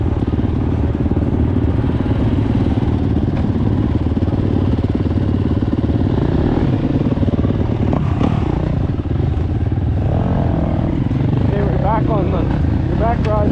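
A 450 dirt bike engine while riding during a hill climb: a loud, steady, continuous drone that rises and falls slightly, with voices talking over it.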